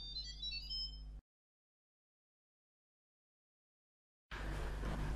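Instant Pot DUO60 pressure cooker chimes as its lid is handled: a short melodic electronic jingle, then a long silence, then a burst of noise near the end.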